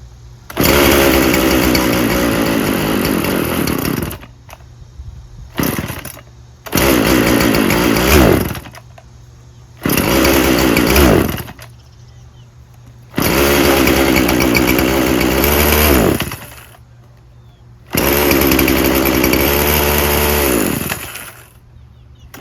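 Poulan Pro 50cc 20-inch chainsaw that bogs and won't stay running, its two-stroke engine revving loudly in repeated bursts of several seconds, each falling back to a low, uneven idle between.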